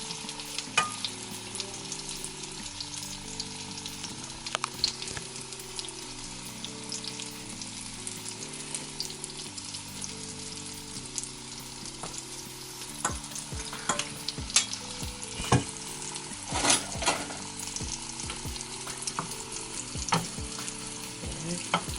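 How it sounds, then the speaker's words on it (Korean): Tuna pancakes with paprika pan-frying until golden, a steady close sizzle and crackle of oil running throughout with sharp pops, over light background music and no talking. "이렇게 노릇노릇하게 제가 굽네요"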